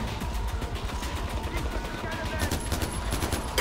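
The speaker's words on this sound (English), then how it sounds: "I'm going off with this AK, but I'm running out of ammo pretty quick." Rapid automatic bursts from an AK rifle in the video game Far Cry 4, loud and close, with dense rattling gunfire continuing throughout.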